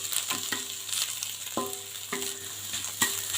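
Beaten egg frying and being stirred in a hot pan, a steady sizzle with repeated scraping strokes of the spatula at a regular pace, close and loud with no talking.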